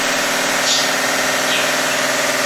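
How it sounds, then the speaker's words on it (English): An electrically heated model steam engine runs steadily nearby, giving a constant mechanical hum with a faint rapid chugging pulse and a few soft hissing swells. "So this is the electrically hot operated steam engine."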